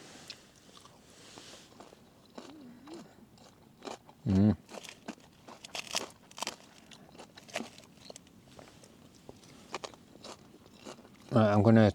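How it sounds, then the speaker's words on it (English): Someone bites into and chews a crunchy salad at a wild campsite, with close, loud crunches at two points and softer chewing and small crackles in between, plus some talk. "Let's try a bit of this crunchy salad."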